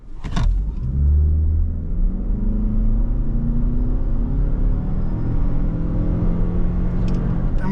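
A 2023 Toyota RAV4 Prime SE AWD accelerates hard from 0 to 60, its drivetrain rising in a steady, heavy rumble with a climbing hum, heard from inside the cabin.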